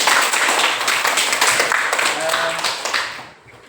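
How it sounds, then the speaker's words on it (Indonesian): Classroom students clapping their hands together in a dense, continuous burst of applause-like claps, fairly loud and sustained before fading out at the end. "Ya, tepuk tangan dulu."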